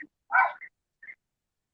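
A dog barks once, a short sharp bark followed by a few faint yips and a brief high squeak, isolated against silence.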